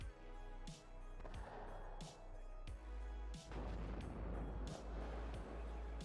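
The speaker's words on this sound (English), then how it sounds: "this is artillery hitting that artillery." Artillery shells strike in the real-time strategy game WARNO, a rapid series of loud, heavy booms and crashes arriving one after another over a constant low rumble.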